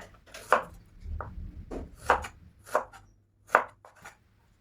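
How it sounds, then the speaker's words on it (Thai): A knife cuts through peeled ginger on a cutting board, slicing it into rounds. About six distinct chops fall at an uneven pace, close and fairly crisp, with nobody talking. "นำมาปอกเปลือกค่ะ แล้วก็หั่นเป็นแว่นๆแบบนี้ไว้นะคะ"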